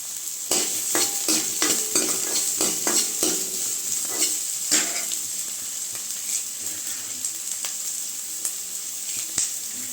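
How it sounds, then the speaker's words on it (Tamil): Sliced medium onions sautéing in hot oil for a roadside-style mushroom masala, with a steady close sizzle broken by repeated sharp scraping stirs and clinks of a spatula against the pan, no talk. "நான் வந்து ரெண்டு மீடியம் சைஸ் வெங்காயம் வந்து கட் பண்ணியிருக்கேன் கொஞ்சம் வச்சுட்டு மீதியை வந்து நம்ம சேர்த்துக்கலாம் வதக்கிறதுக்கு"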